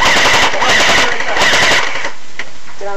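An airsoft gun fires a fast, loud, continuous automatic burst for about two seconds during an outdoor airsoft game, then stops, leaving a faint tail and a brief voice.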